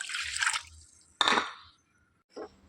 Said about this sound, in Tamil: அதில் ரவா எடுத்த கப்புலையே ஒரு கப்பு தண்ணி சேர்த்துக்கிறேன்